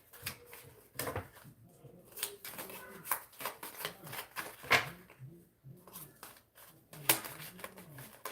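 Tarot cards are shuffled in a series of soft, irregular riffles and slaps over a quiet room, with brief pauses between bursts and occasional faint handling noises.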